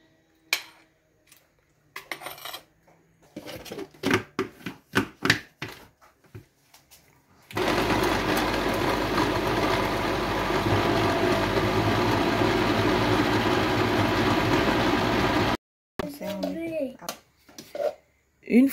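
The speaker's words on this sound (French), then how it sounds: "Je vais mixer un peu." A blender purees thawed prala with a loud, steady whir that runs for about eight seconds, set between bursts of clattering dishes and utensils before and after.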